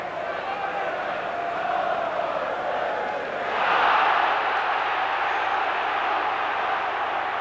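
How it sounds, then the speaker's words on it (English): A football crowd at the Nottingham Forest v West Ham United FA Cup semi-final roars from the far side after a tackle, swelling briefly midway before settling back into a steady murmur beneath a commentator's voice. "The crowd on the far side reacted to the tackle"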